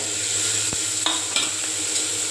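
Onion, tomato and curry leaves sautéing in a pan give a steady close sizzle with a few faint scraping stirs and light clicks, no voices.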